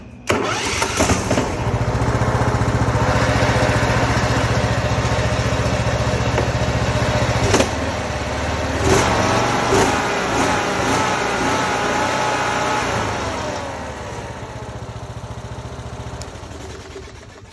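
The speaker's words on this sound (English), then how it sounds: "I got a 20 horsepower Kohler Command lawnmower engine and lawnmower transaxle up under this go-kart" A 20 hp Kohler Command lawnmower engine mounted on a go-kart with a lawnmower transaxle runs steadily and loud with a droning rumble and a few sharp blips, easing down quieter near the end, no talking.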